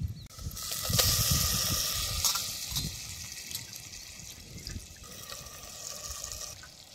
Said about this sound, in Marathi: पाणी गाळून त्याच्यात टाकायची.